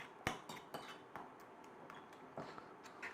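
Passionfruit mint sauce stirred with coconut sugar, a utensil tapping and clinking against the bowl in a few irregular sharp knocks over soft scraping, close and moderately quiet.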